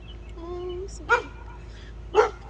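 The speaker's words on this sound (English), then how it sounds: "There's a dog." Two short dog barks about a second apart, fairly close, with a brief soft vocal tone before them.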